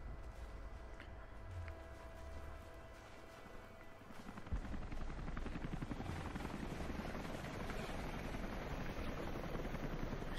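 A video game helicopter's steady rotor drone fills the scene in Rise of the Tomb Raider, growing louder and fuller partway through, with no talking.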